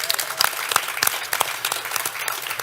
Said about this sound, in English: So put your hands together for Avid and give them a round of applause.